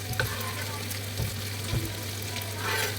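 Onions and pepper fry with fish in a pan for noodles, giving a steady soft sizzle with a faint low hum beneath and a few light clicks of stirring.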